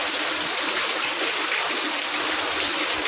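Heavy rain pours down in a village, a dense, loud, unbroken rush of falling water close by with no voices.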